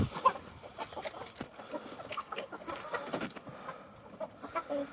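Several chickens cluck and murmur close by in a busy coop, soft overlapping calls with scattered rustling.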